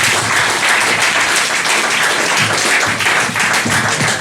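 Loud, sustained applause from a comedy club audience, dense steady clapping filling the room without pause for several seconds.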